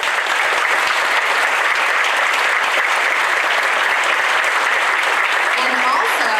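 Steady, even applause from a concert audience at an eighth-grade band and chorus concert, honoring Mr. Graziano, a dense wash of clapping that holds constant throughout, with faint voices underneath.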